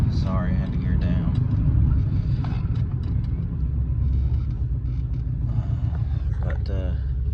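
An old body-style pickup truck engine rumbles low and steady inside the cab after a downshift, with someone talking over it throughout.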